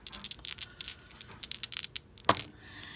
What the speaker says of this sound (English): All right, and we're gonna roll the dice.